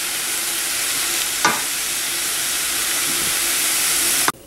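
Soy sauce is stirred into rice in a single pot, a close, steady sizzling hiss with a couple of soft scraping knocks of the spoon, without talk.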